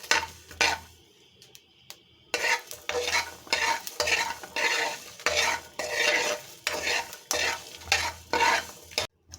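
Garlic and whole round red chillies roast in a pan for pumpkin pickle, stirred briskly in repeated scraping strokes over a light sizzle, close and without voices.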